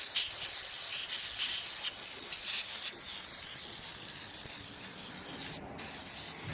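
Fluid Film undercoating sprayed from an air-compressor-driven sprayer, a continuous close hiss with a brief break near the end, with no talking.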